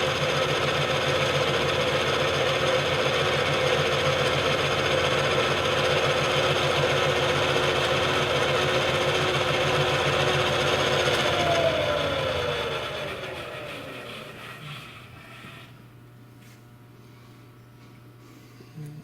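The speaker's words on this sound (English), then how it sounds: "that is basically all the features of the lathe. It's a good running machine." A metal lathe runs with a steady mechanical hum and whine, then winds down and fades to near quiet over the last few seconds.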